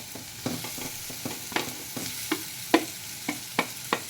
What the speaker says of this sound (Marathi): हा चिरलेला बटाटा मी आता त्यात घालत आहे